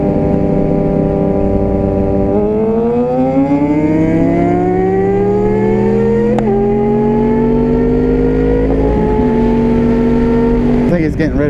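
An R1 or GSX-R 600 sport motorcycle roars loud and close while accelerating during a street race on twisty roads, its engine pitch climbing steadily through the gears with brief dips at the shifts. No one speaks.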